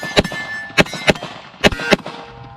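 Five sharp, loud gunshots from an SCT-19 rifle as a magazine is fired at targets, irregularly spaced over a few seconds, each with a short ringing decay and no talking.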